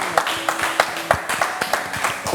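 A studio audience applauds in Côte d'Ivoire: a brief, close burst of rapid, uneven hand claps from a small group, with a faint voice underneath.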